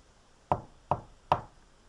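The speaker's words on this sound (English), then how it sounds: "so gently you came rapping, and so faintly you came tapping at my chamber door" Three distinct knocks on a chamber door, evenly spaced and fairly crisp, each ringing briefly against an otherwise quiet background.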